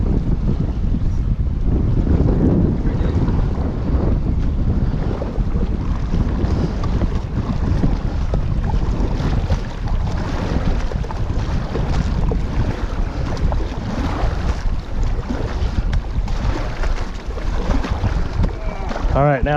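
Canoe paddled across a lake in Algonquin, steady wind and water noise rushing close to the microphone throughout, with splashing and hull wash; people talk briefly over it.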